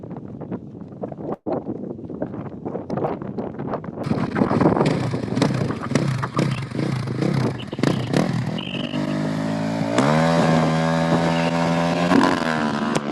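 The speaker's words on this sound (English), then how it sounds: "Next off the line is going to be Andro on a KTM 450 from Chile as well." A KTM 450 rally motorcycle launches from the start of a desert race stage in Abu Dhabi, its engine revving up and rising in pitch as it pulls away, loud and close amid gusting wind buffeting the microphone.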